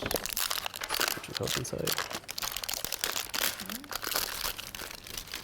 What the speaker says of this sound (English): So let me just unwrap it.